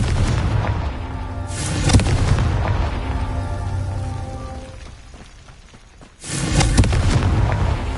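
A Confringo fire spell explodes in Hogwarts Legacy with two deep, booming blasts, one early and one near the end. A rumbling tail rings out and slowly fades between them.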